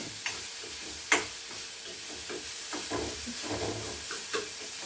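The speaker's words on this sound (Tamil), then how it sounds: "வதக்கணும், கொஞ்சம் வதங்கட்டும்" A spice mixture with chili powder sautés in a pan for a ball samosa filling. A soft, continuous sizzle carries occasional sharp ticks and spoon taps, close by and without talk.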